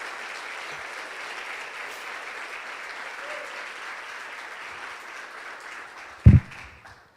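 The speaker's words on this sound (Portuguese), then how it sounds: "Aplauda o nome do Senhor Jesus, amém?" A church congregation applauds steadily for about six seconds in a reverberant hall, a dense, even wash of many hands at moderate level, ending with one sharp louder knock near the close.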